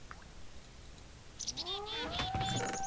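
A cat in the Minecraft modpack Tekkit/Technic meows once, a rising then falling mew that stands out clearly over faint background hiss, with no talking.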